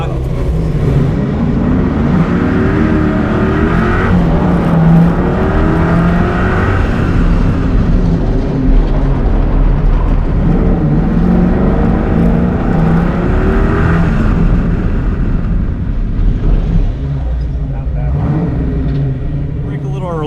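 A Ford car at a Ford Fest drag strip launches hard with heavy wheelspin, its engine roaring and rumbling steadily throughout while a person talks over it.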